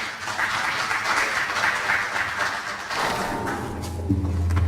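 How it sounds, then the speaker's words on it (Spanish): Audience applause welcoming a speaker at a conference, a dense wash of clapping throughout that thins near the end as a low hum or murmur rises. "Recibámoslo con un fuerte aplauso."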